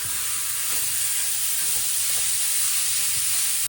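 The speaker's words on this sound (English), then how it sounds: "add the seasonings, give it a really good mix, and then transfer to a hot frying pan." Seasoned chicken pieces sizzle in a hot frying pan, a steady close hiss of frying with no talk.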